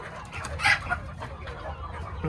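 Farm chickens in a shed during rain, a few close clucks, with a brief sharper call rising over a soft, steady background.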